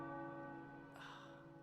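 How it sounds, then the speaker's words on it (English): Tower bells ringing in the video game Marvel's Midnight Suns, a sustained resonant tolling with long ringing overtones, steady and moderately loud, with a brighter strike layering in partway through. "The tower bells are ringing."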